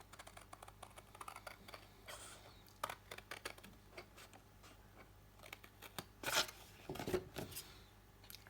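Scissors snipping paper tabs off a craft wallet at an angle, a string of crisp cuts with small paper rustles between them, close and fairly quiet, with a louder pair of snips near the end.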